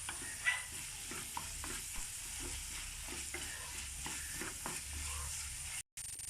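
Crushed shallots, garlic and ginger fry quietly for a Kerala chicken roast, with a soft continuous sizzle and light, irregular scrapes of a stirring spoon. There is a brief cut of silence near the end.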